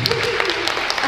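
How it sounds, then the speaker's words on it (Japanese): Loud, dense applause from an outdoor concert crowd at an idol music event in a park amphitheatre, a continuous wash of clapping with scattered voices mixed in. "すごい拍手でかいね"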